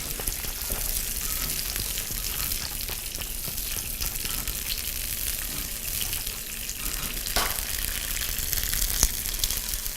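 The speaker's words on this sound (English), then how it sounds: "I'm going to put a little bit of broth into my sauce. And I'm going to let that cook." Broth cooking into a pan sauce with artichoke bits, bubbling and sizzling steadily in a skillet close by, with scattered clinks and a brief watery splash partway through, no talking.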